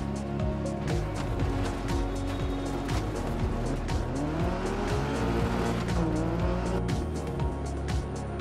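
A Volkswagen Golf GTI 16V rally car from 1986 in Dirt Rally 2 on a Greek gravel stage in Argolida, its engine revving and shifting continuously with squealing, skidding tires throughout.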